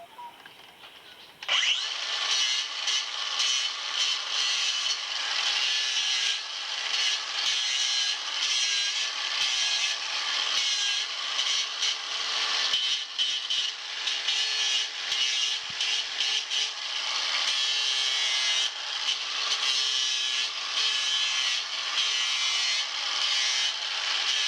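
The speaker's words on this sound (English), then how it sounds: "I'm just going to trim that up with a grinder." A handheld grinder trims a cow's overgrown hoof after about ten to twelve weeks without trimming, spinning up abruptly and then whining loudly and continuously, close by, with a shifting gritty scraping as it bites into the hoof.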